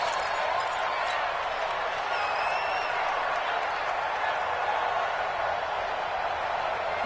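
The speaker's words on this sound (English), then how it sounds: "The crowd getting into it as we come up on a big 3rd down" A big football stadium crowd at a professional game roars as a third down approaches, a steady, loud wash of cheering that holds evenly from start to finish.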